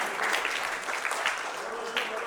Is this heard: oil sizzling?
no